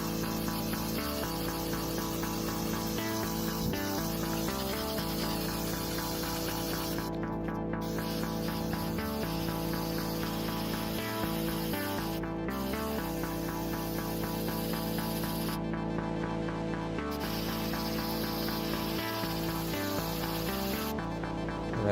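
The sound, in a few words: spray can spraying paint stripper on valve cover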